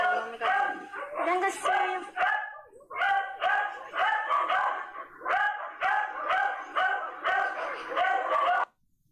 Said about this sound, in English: That's the lady's dog that was shot.